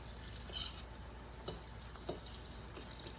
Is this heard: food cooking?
yes